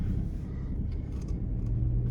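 A car on a drive home, its engine giving a steady low rumble with continuous road noise throughout, close and fairly loud with no talking.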